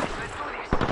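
Gunfire in the Apex Legends video game: a dense, crackling rattle of shots runs through the second, with a louder, closer burst near the end.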